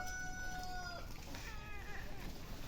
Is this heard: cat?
yes